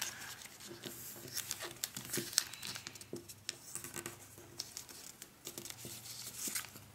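Paper crinkles and rustles softly as it is folded and creased on a flat surface into an origami kangaroo, with quiet, irregular crisp crackles and small snaps throughout.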